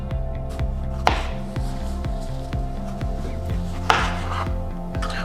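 A knife slices a tomato height-wise on a cutting board, giving a string of regular close knocks and soft squishy cuts, with a couple of sharper strokes standing out.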